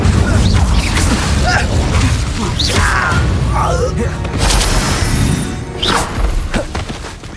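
Incendio fire spells are cast during Hogwarts Legacy combat, with loud fiery whooshes, booms and thuds bursting repeatedly over a busy battle din.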